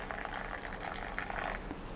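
Thai tea poured from high between containers, a steady splashing liquid stream with surging pours and brief pauses, close and moderately quiet.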